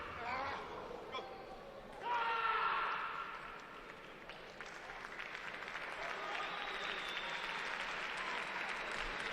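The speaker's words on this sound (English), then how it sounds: "applause for Rafael Silva as he comes up with a score" Audience applause breaks out at a judo Grand Prix contest in Samsun as a fighter scores, swelling then settling into a steady, moderately loud crowd wash with voices mixed in.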